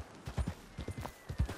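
Horse hooves clip-clop in Red Dead Redemption 2, a quiet, uneven run of soft hoofbeats at walking pace, close by with low background noise.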